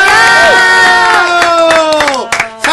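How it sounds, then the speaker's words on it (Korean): A loud studio audience at a Korean radio show cheers and whoops together, voices rising and falling in excited shouts. "자, 박수 청해 드릴게요."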